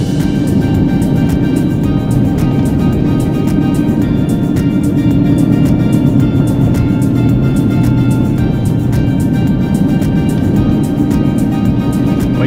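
A vehicle cruising steadily at about 50 km/h on the gravel and pavement of the Top of the World Highway, a loud, constant interior road rumble and engine drone with rhythmic clicking ticks, no talking.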